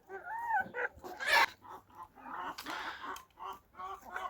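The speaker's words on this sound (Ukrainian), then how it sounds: "Кури наші доїдають останній кавун." Hens on a farmstead cluck and call in the morning while pecking at a watermelon, with short rising squawks and bursts of clucking close by, in uneven rhythm.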